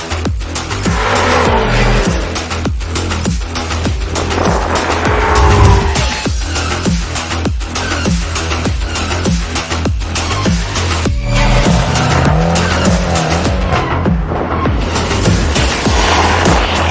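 BMW M5 and Mercedes-AMG E63 S drag racing, with loud, continuous engine roar and repeated tire squeal and skidding throughout, close and dense with no talking.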